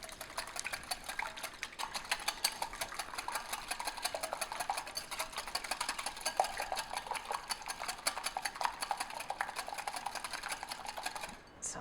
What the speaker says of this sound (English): I just use a whisk to break them up